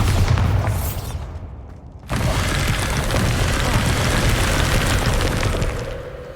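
Bombarda spell explosion in Hogwarts Legacy, a heavy booming blast that cuts in abruptly after a rumbling lead-in, then a sustained roaring, debris-filled tail that slowly fades, loud and close.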